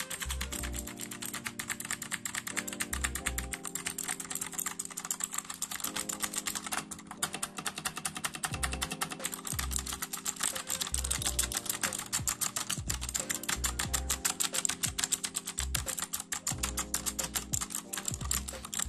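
Rapid, continuous clacking of keys being typed on an Aula Demon King mechanical gaming keyboard, recorded close to the mic, loud and steady for the whole stretch with no talk.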